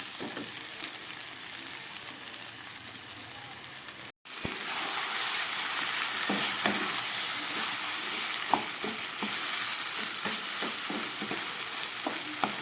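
Mutton cooking in a homemade spiced masala sizzles steadily, a brief dropout near four seconds, then a denser, louder fry with occasional scraping stirs and pops, no voices.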